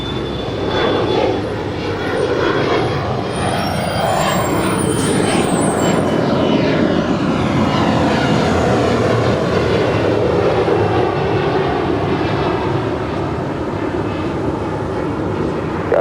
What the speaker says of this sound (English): clear for takeoff, United 514